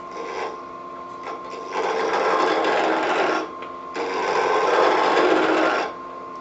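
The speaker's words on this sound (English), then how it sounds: "So first things first, we got to get it round. Use my bowl gouge." A bowl gouge cuts into a spinning wood blank on a lathe, giving a steady hum under two long, loud rasping passes that swell and fade, heard up close with no talk.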